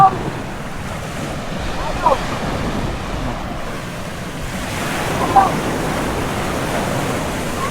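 Strong ocean waves surging near rock islets, a continuous near wash of surf with swells at about two and five seconds, mixed with wind buffeting the microphone, no talk.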